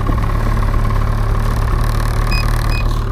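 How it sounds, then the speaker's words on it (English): A snowmobile engine idles close by, a loud steady low rumble with constant mechanical hum throughout and no change in pitch. "the engines are kind of loud on the snowmobiles"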